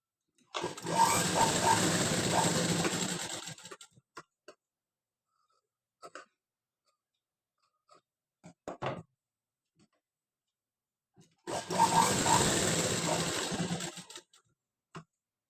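A sewing machine stitching a patch onto a blouse piece runs in two loud, close bursts of a few seconds each, a fast rhythmic whir, separated by quiet stretches with scattered clicks of handling cloth.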